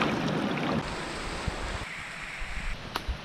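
Strong sea waves at Bungol, Pinamalayan, Oriental Mindoro wash steadily in a broad, rushing roar with wind buffeting the microphone, easing slightly after the first second and joined by a few faint knocks.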